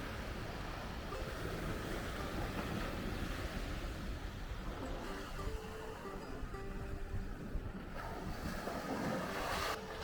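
Gentle ocean waves wash onto a calm beach in Tampa, Florida, a soft continuous surf wash with slow swells and light wind noise on the microphone, no voices.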